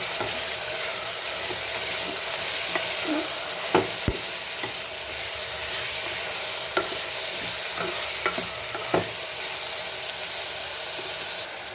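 Toor dal being stirred with gorichikkulu in a frying pan, a steady sizzle and hiss of frying under occasional scraping clinks of the spoon against the pan.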